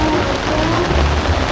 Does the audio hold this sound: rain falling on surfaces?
yes